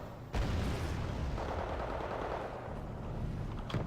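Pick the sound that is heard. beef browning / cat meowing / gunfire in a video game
gunfire in a video game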